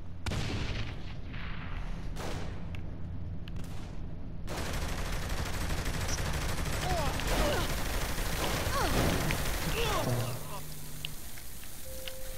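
Rapid shotgun fire and gunshot bursts in the open-world crime game Saints Row: The Third Remastered, dense and loud throughout under a continuous wash of game noise and talking voices.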